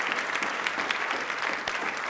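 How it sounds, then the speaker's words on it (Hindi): A studio audience on a Rajasthani television quiz show claps loudly and steadily, a dense, even wash of applause with no pauses. "उनके सम्मान के लिए एक बार तालियां जोरदार बजा दीजिए"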